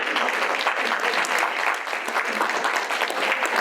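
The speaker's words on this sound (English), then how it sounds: "Round of applause for Maurice, everybody." Audience at a senior center fashion show claps in a continuous, fairly close burst of applause, dense and steady for a few seconds with no talk over it.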